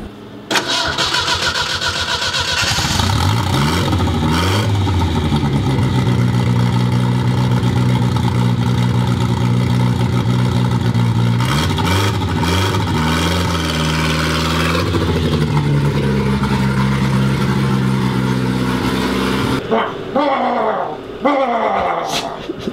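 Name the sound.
turbo car engine revving through exhaust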